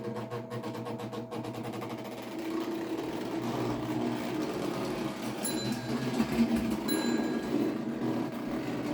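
A Lionel Western Maryland NW-2 diesel switcher toy locomotive, its motor and wheels freshly oiled, runs with a continuous close whirring motor hum and light mechanical clatter, steady in level throughout.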